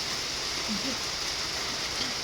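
Heavy rain pours down steadily outdoors in the Philippines, a dense, constant hiss close at hand with no voices.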